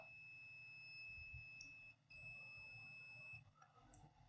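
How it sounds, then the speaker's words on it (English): A test meter beeps while probing a capacitor on a faulty spare board, giving a steady high electronic tone that runs almost continuously with a brief break midway, over low background hum. "You can hear the sound of the test meter."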